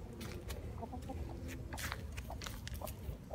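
Chickens clucking in a yard while taking dirt baths, a busy mix of soft clucks and short calls at close range with faint background noise and no talking.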